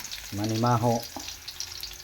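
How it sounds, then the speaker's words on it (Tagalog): Garlic browns in hot oil in a pan, giving a steady soft frying hiss throughout, with a brief spoken word near the start. "Ating i-brown-brown para masarap mangangamoy yung bawang"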